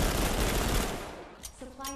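Dense automatic gunfire in the Guardians Frontline video game rattles loudly for about a second, then fades out, leaving faint game tones behind.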